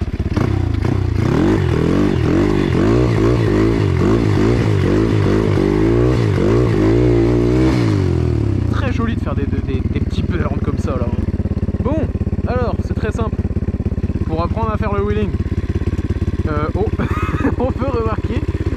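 Motorcycle engine revving hard in rhythmic bursts at close range, then easing off to a lower running rumble as someone talks over it with excited exclamations.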